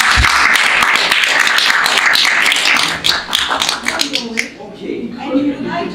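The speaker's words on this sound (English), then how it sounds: "Give him a big round of applause" A crowd claps loudly and steadily for a speaker at a public-speaking event, with a dense burst of applause that thins toward the end, while a voice talks faintly beneath it.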